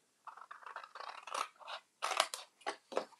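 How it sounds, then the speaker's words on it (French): Paper triangles being snipped away with scissors at a card-folding craft table: a run of quick, close blade snips and crisp paper cuts in irregular bursts, with no talking. "Ces petits triangles, eh ben, on va tout simplement les enlever avec nos ciseaux"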